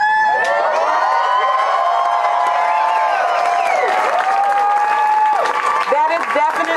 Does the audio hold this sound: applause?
yes